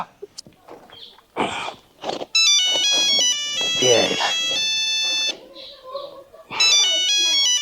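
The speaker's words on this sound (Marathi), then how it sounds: "कोणाचा फोन आला ना" A bright electronic phone ringtone plays a repeating melody in loud bursts, with rustling and brief voices in between.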